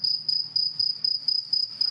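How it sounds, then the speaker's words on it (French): A cricket chirps in steady, rapid pulses, close and clear, with a faint low hum underneath and no voices. "Le petit cri perçant du grillon, ça devient très, très agaçant."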